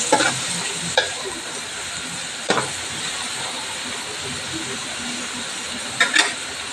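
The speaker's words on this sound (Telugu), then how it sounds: "ఉల్లిపాయ ముక్కలు దోరగా వేగాలి." Onion pieces sizzle and hiss steadily in a hot pan, with a few sharp clatters of stirring, close and continuous.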